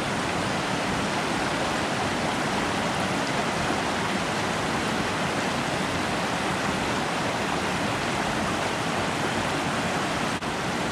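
Chiao Creek in Talladega National Forest, Alabama, rushes past a crossing with a loud, unbroken roar of flowing water, steady throughout with no voices.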